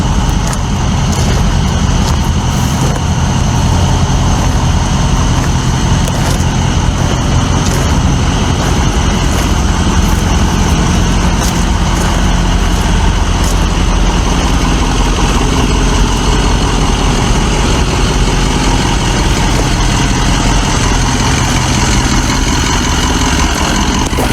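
A truck engine idles on a road, a steady low rumble that holds loud and close for the whole stretch, with no voices over it.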